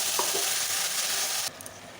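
Tomato, ginger, garlic and green chilli purée fries over browned onions in a pan with prawns and pointed gourd, giving a loud, dense, continuous sizzle that cuts off abruptly partway through, leaving a quieter hiss with a few faint clicks.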